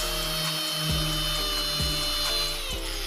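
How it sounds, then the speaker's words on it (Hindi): An electric drilling machine whines steadily while boring a hole for a homemade electric lighter, with several short dips and catches in its pitch as it bites into the material. "यहाँ पर हम इसको ड्रिलिंग मशीन से लेंगे"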